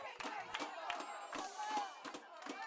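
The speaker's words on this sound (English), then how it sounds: "So the crowd here is excited." A crowd at a Lovington high school softball game against Artesia, in a tense sixth inning, cheers and yells in repeated excited bursts, with loud shouting rising and falling throughout.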